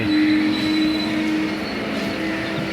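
A train from Aurangabad to Mumbai rumbles steadily along the rails in hilly country, a thin metallic squeal ringing over the heavy low noise, then the sound eases slightly as it slows to a stop.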